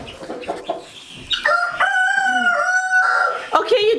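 Roosters and hens inside a chicken house: a nearby rooster lets out a loud, drawn-out crow amid scattered clucking from other birds.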